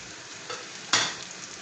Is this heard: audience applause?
no